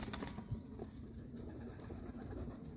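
Pigeons coo softly close by, low murmuring calls over a faint background rustle, with a brief flutter or two.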